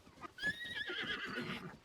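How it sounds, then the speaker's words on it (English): A horse whinnies in Zelda: Tears of the Kingdom, a rising, stretched neigh at moderate loudness that trails off into a breathy, fluttering tail. "From here I jump down and instantly get a horse"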